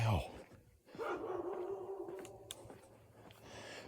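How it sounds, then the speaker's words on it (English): A dog barks outdoors on an early morning walk, one sharp bark at the start followed by a drawn-out whimpering yelp, medium distance, with some faint noise around it. "Now we got another dog. Never heard that dog before."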